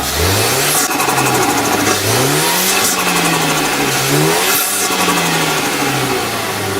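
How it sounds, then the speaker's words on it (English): A turbocharged Mazda SkyActiv engine revs repeatedly, loud and close, each rise in pitch followed by a rapid fluttering chatter of compressor surge as the throttle closes. "The flutter sound you hear that sounds like pigeons escaping is compressor surge"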